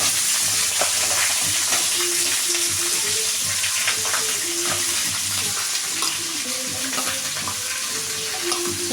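Onions, green chilies, garlic and ginger fry with cashews in a pan for paneer butter masala, a loud continuous close sizzle with repeated stirring scrapes throughout.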